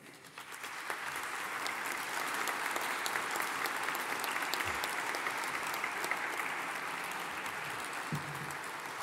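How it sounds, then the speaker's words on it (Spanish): A congress audience bursts into sustained, loud applause that rises quickly and holds steady for several seconds with a faint crowd murmur underneath. "¿Qué os parece si le damos un abrazo a Agustín Azaña con este aplauso?"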